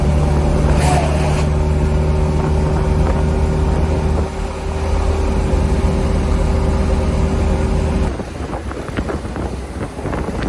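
A 1968 Fiat 500 driven flat out at top speed: steady engine drone with strong wind buffeting the microphone from inside the car, the tone shifting around the eighth second.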